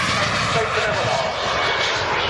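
Model aircraft engine at an outdoor air show, a steady, loud buzzing drone holding constant for a couple of seconds with a commentator's voice over it.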